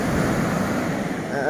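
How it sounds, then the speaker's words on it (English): Heavy storm waves surge and crash onto a washed-out beach on Koh Samui, a continuous rushing roar of surf mixed with wind, heard under a voice speaking. "There's heavy waves coming in."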